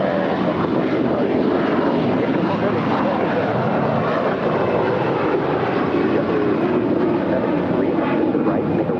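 A Qatar heavy jet takes off from runway 25 right at LAX, its engines producing a loud, steady broadband roar that holds for the whole stretch, with a voice talking faintly underneath.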